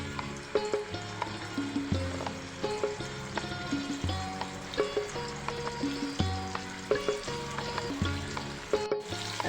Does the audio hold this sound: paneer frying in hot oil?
yes